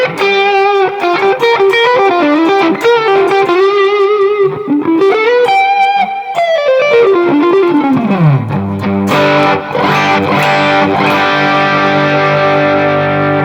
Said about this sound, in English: I'm just going to throw a clon in front of our deluxe reverb here.